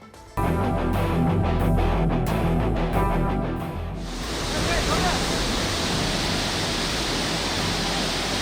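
Floodwater of the Bhadra river roars during heavy rain in Shivamogga, a loud continuous rushing that sets in abruptly after a short tonal intro and holds steady with no talk.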